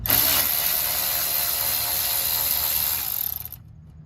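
A bolt being removed from the new condenser on a Honda Insight 2ZE, heard as a steady, close, loud ratcheting rasp that runs continuously for about three seconds before stopping abruptly.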